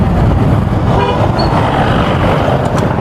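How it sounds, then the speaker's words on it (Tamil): A vehicle horn sounds on a hill road near Ooty, a short honk heard over loud rumbling road and engine noise from a motorbike ride. "ஹார்ன் அடிக்கிறான்"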